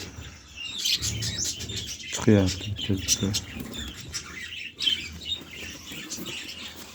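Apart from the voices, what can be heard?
German breed birds with chicks chirping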